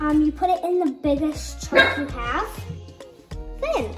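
A pet dog barks and yips in a home kitchen during cake pop baking, several short close barks mixed with someone talking over them.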